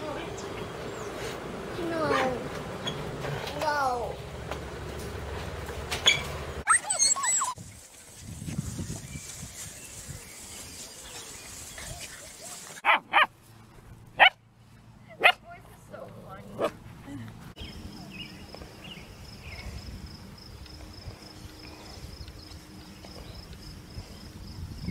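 A dog barks and yips in several bursts, with whimpers and short sharp barks separated by quieter stretches, while a person talks over parts of it.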